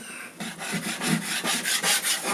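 A scraper rasps repeatedly across old painted fibreglass, stripping paint in steady back-and-forth strokes, loud and close with a rough, gritty rhythm.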